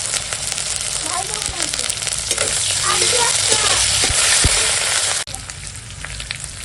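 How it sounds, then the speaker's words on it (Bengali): Onion frying in a pan with ginger-garlic paste, tomato and green chilli nearby, giving a loud, steady sizzle with scraping stir strokes throughout. It quiets sharply near the end. "তো পেঁয়াজটা ভেজে নেই"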